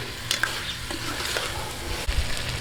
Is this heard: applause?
no